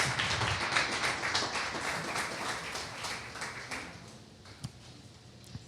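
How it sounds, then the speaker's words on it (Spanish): A church congregation applauds for the Lord during a service, with dense, steady clapping from many hands that fades out toward the end, leaving a few scattered claps. "Denle un gran aplauso al Señor, al Rey de Reyes y Señor de Señores."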